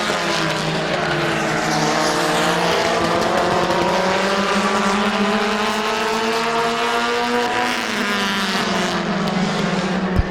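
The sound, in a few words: race cars racing on speedway oval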